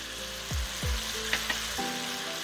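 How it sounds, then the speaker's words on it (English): Soy sauce poured onto beef strips frying in a pan, a continuous close sizzle with a couple of low thumps and brief clinks of a utensil, no talk. "Now I'm going to add my soy sauce"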